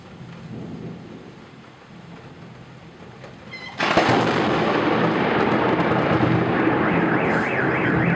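A sudden, loud crack of thunder from a lightning strike during a storm bursts in after a quieter rumbling stretch, then rolls on heavily with rain, as a car alarm begins wailing in the background.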